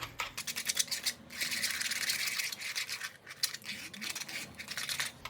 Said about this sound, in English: I like using the whisk because it helps to break that egg up.